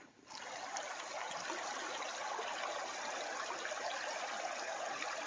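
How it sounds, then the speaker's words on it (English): A creek runs steadily after high water has dropped, its broadband trickling and rushing holding at an even, close level throughout with no voices. "Creek is sounding mighty nice"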